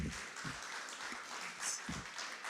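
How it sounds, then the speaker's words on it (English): A conference audience applauds as a speaker walks on stage, a short, fairly faint burst of clapping heard from some distance. "Let's give him a big round of applause."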